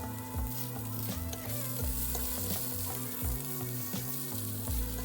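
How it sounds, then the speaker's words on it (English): Zucchini and aubergine fry in spiced oil with a dense, continuous sizzle and crackle, close and steady throughout, over a low rhythmic hum with no voices. "Be sure to cook your zucchini and your aubergine until they're golden."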